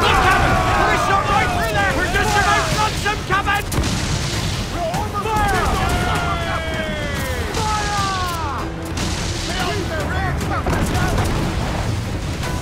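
Ship mortars firing in the naval combat of the video game Assassin's Creed IV: Black Flag, with heavy booms and crashes over a busy battle din while someone talks throughout.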